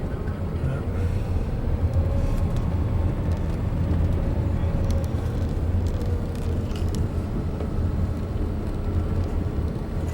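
Car driving on a mountain road in New England, its steady engine and road rumble continuing loud and unbroken throughout, close inside the vehicle with no talk.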